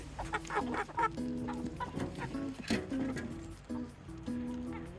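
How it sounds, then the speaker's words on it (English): Several chickens cluck and squawk close by in a busy, overlapping chatter, with bursts of louder calls rising and falling. "Hi, chickens."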